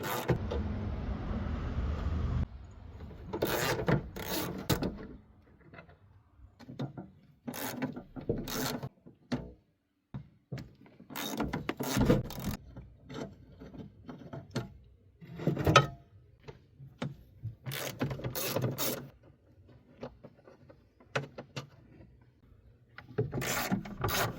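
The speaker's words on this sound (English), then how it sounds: "Take our 15mm socket and remove these 6 bolts." Bracket bolts are removed with a ratchet and 15mm socket during a battery replacement on a Chevy Silverado or GMC Sierra, producing many short clicking and rattling bursts, near but fairly quiet, scattered irregularly with gaps.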